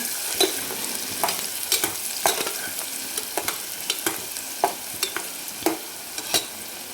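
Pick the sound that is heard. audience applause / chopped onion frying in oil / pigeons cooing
chopped onion frying in oil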